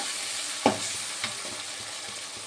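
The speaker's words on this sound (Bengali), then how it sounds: "এবারে আদা রসুন বাটা দিয়ে দেবো। ঘুগনিতে আদা রসুন বাটা একটু বেশিই লাগে। দিয়ে একটু ভেজে নেবো" Ginger garlic paste frying in a pan for ghugni gives a steady low sizzle, broken by a sharp clatter of stirring and a second fainter scrape.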